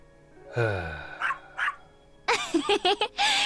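Small dog barking in a video game, a whiny yelp followed by several short sharp barks, the later ones bunched into a quick loud burst, heard clearly without talk.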